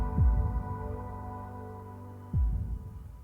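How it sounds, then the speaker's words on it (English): In a music track, two deep, thudding heartbeat-like pulses sit over a sustained humming tone, spaced about two seconds apart. "Sort of a heartbeat now."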